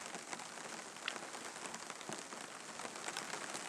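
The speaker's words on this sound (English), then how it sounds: "It's absolutely pouring down with rain again." Heavy rain pours down outdoors in a steady, dense hiss with scattered louder drops, constant and fairly faint, with no voices.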